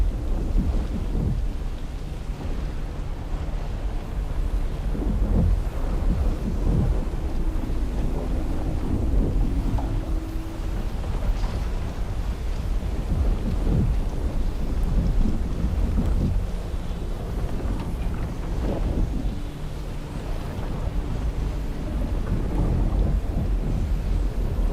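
A sustained, dense roar of thunderstorm in the video game Dune Awakening, with rumbling low rolls, rain-like hiss and windy gusts filling the scene at moderate level with no pauses.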